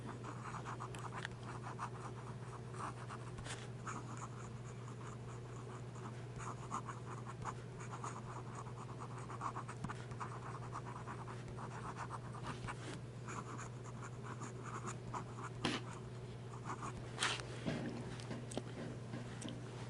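A custom-made pen lays down wet ink on paper in quiet, close scratchy strokes, soft and irregular, with a few sharper ticks as the nib moves and lifts.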